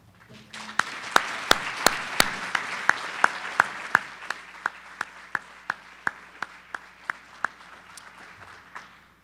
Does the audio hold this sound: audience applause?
yes